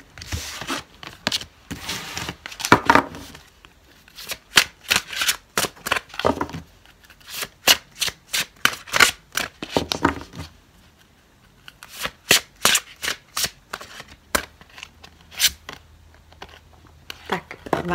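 Quick, crisp riffling and slapping of tarot cards being shuffled over and over in steady bursts, close up and fairly loud.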